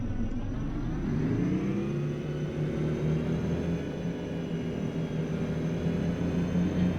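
A 12-cylinder custom Peterbilt truck engine in American Truck Simulator runs loud and close with a dense rumbling drone, its pitch easing upward briefly early on, alongside a steady high turbo whistle.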